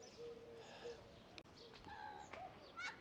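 Caged pigeons coo softly in a residential area of Torrevieja, Costa Blanca, Spain, with a few faint chirps and calls scattered among low outdoor background noise.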